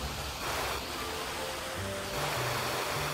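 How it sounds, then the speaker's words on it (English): Steady broadband rush of a waterfall in the survival video game Cenozoic Survival, a continuous loud wash of water with faint low tones beneath and no talk over it. "Ooh, waterfall."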